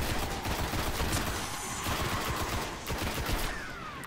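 Rapid gunfire from a gun in the Destiny video game, a dense, continuous rattle of shots lasting several seconds, loud and close, with no talk.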